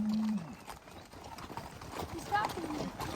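A horse's hooves clip-clop faintly beneath steady talking, with a short high whinny-like tone near the start.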